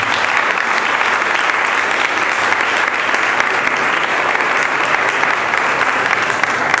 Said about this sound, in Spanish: se merece un fuerte aplauso